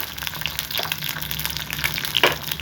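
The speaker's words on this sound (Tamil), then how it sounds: "நம்ம தாளிச்சிட தான் இதில் வந்து வடகம் போட்டுக்கலாம் நெக்ஸ்ட்டு கடுகும் போட்டுக்கிறோம்" Vadagam and mustard seeds crackle and fry in hot oil for a tempering, a steady close sizzle with a few sharper pops near the end.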